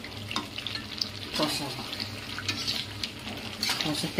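Meat sizzles and sautés with meat masala in a pan, scraped and stirred in a steady close crackle with brief spoon knocks, continuous throughout with no talk.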